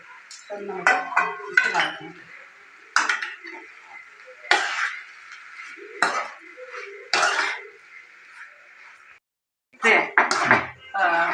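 A metal spoon scraping and clinking against a pan while seasoned jowar roti pieces are mixed, a series of sharp knocks and scrapes over a steady low background hum.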